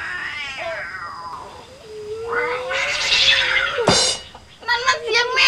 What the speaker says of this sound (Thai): นั่นมันเสียงแมว